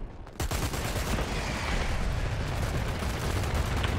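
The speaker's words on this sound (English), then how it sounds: "it's going to be Sunbang's airstrike clearing that position completely" Airstrike explosions in a tactical shooter match, a dense sustained roar of blasts and rumbling gunfire-like bursts that starts abruptly and stays loud throughout.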